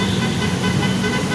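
Car horns honking at a nighttime protest against corruption at Camp Aguinaldo, a loud, dense, continuous blare of overlapping horns amid roadway traffic noise.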